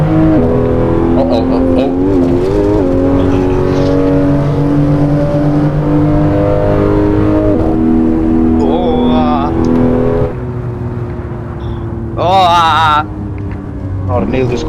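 ABT-tuned Audi RS4-R wagon engine pulling hard through a corner, a loud steady drone rising and falling with throttle, with brief tire squeal near the end and someone talking excitedly over it.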